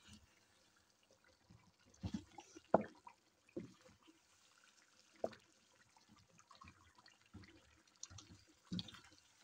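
Tomato-based Shinwari karahi is stirred in a pan, giving faint, irregular wet squelches and soft clicks of the utensil against the metal.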